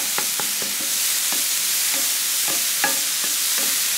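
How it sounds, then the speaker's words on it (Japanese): Stir-frying in a hot pan on an ordinary home gas stove, cooking for mapo tofu: a steady sizzle with scattered scraping stirs and clicks of the utensil against the pan, close and alone without talk. "ちょっとあの透明になるまで炒めます"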